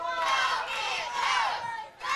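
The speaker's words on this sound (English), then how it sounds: "The crowd getting behind the Colorado Kid." Wrestling crowd at an NWA Worldwide show cheers for the Colorado Kid as he's held in a chin lock, a dense, steady roar of many voices with swells and a brief dip near the end.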